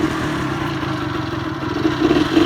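A cold, choked Suzuki LT80 Quadsport quad with a Midwest Mini speed kit and Boyesen reeds runs close by, its small engine holding a steady buzzing idle that rises slightly toward the end, with no talk.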